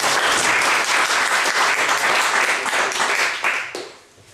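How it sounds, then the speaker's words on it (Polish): Loud, close audience applause at a literary festival word-battle event, dense continuous clapping that holds steady and then dies away in the last half second. "Wielkie brawa dla Konrada."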